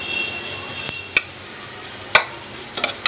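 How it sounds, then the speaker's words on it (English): Onion fries in a pan with a quiet, continuous sizzle. A few sharp taps of a spoon against the pan break in at irregular moments. "fry this onion"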